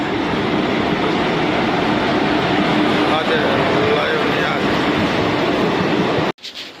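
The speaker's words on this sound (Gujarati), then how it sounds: "જામનગરનું રેલવે સ્ટેશન છે." A continuous loud rumbling roar of a train running close by at Jamnagar railway station, steady throughout and cutting off abruptly near the end.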